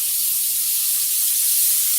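A dry micro-steam iron lets out a steady, hissing jet of steam for a couple of seconds. The spray sound is continuous and close, with no one talking over it.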